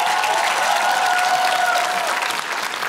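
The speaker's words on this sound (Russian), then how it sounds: "Под ваши аплодисменты, Ирина Приходько здесь у нас в гостях." Loud, sustained applause from a studio audience at a televised comedy roast, dense clapping that stays steady and then eases slightly at the end.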